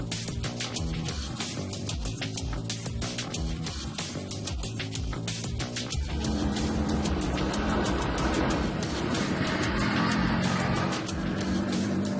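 Continuous engine drone of a race car on track at Laguna Seca, with rapid mechanical ticking and a rising, harsher tone as it accelerates partway through.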